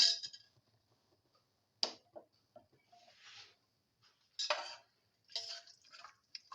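A lentil tomato fenugreek pilaf is stirred in a pan with water, producing sparse, quiet scrapes and clinks of a utensil, spaced a second or so apart, with near silence between.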